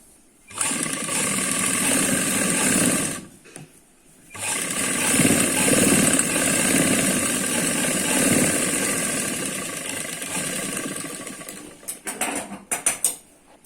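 An electric sewing machine stitches palazzo pants, a loud close mechanical whir running steadily with a brief pause early on and a few quick stops and starts at the end.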